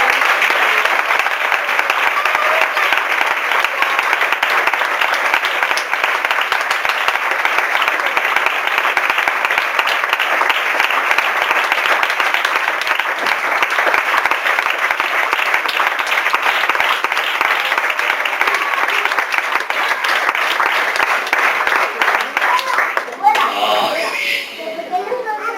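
A church congregation gives sustained applause, a dense, loud wash of clapping that continues for over twenty seconds before tapering off, with children's voices mixed in.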